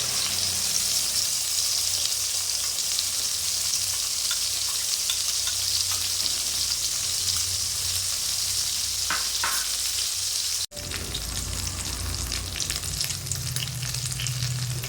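Brinjal slices and beaten egg fry together in hot oil in a pan as an omelette, with a loud, continuous close sizzle that briefly breaks off near the end, then resumes.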